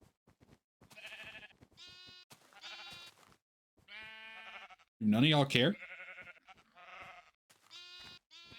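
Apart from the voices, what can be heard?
sheep bleating in the video game Minecraft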